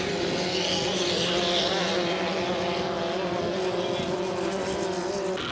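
A 2.5 litre racing hydroplane roars across the water at Valleyfield, its engine a steady loud drone held at high speed throughout, with no breaks in the sound.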